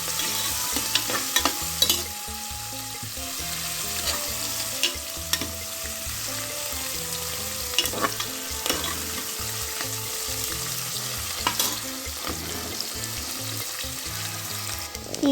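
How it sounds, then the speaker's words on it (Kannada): Onion frying in a pan for a vegetable pulao, a continuous close sizzle with repeated scraping stirs and occasional utensil knocks, no talk over it. "ಸ್ವಲ್ಪ ಒಂದು ಈರುಳ್ಳಿ ತೊಗೊಂಡಿದ್ದೆ ಅದನ್ನು ಹಾಕಿಬಿಟ್ಟು ಅದನ್ನು ಫ್ರೈ ಮಾಡಬೇಕು"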